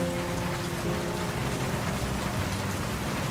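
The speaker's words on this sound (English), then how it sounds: "The rain beats against the office window." Steady rain beats against an office window in the World of Goo 2 game, a dense, continuous patter filling the scene with no voices.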